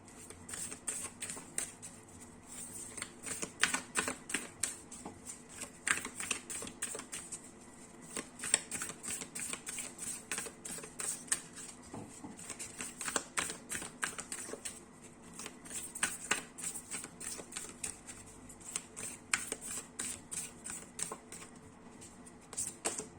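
Angel cards are shuffled close by during a card reading, producing a quiet, continuous patter of soft riffling flicks and slides in quick, uneven bursts that run throughout with no talk.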